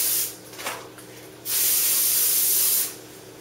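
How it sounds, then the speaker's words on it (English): Olive oil cooking spray hisses onto a baking pan in two bursts, a short one and then a longer steady one, close and fairly loud with no talking. "just spray the pan that we're going to use in it just lightly"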